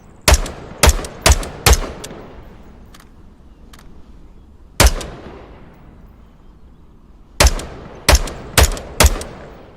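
Sharp single gunshots crack in a VR shooter, Onward, fired at moving targets on a quiet range, four quick shots, a lone shot, then four more, each with a short ringing decay.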